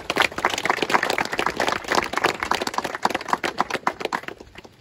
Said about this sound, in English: Big round of applause for all those people.